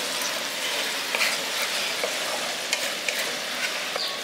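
Sauce stirred in a hot pan with salt and Kashmiri chilli powder for Maggi Manchurian, a steady close sizzle with light scraping clicks of the spoon throughout.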